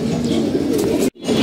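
Pigeons in a loft, young birds being trained, cooing steadily and close by with a dense, continuous murmur that cuts out briefly near the end before resuming.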